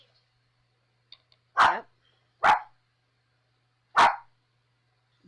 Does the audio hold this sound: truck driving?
no